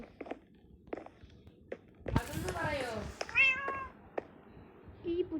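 Cat meowing in a video game, a drawn-out meow in the middle followed by a second shorter cry, with soft scattered clicks and footsteps around it and someone talking.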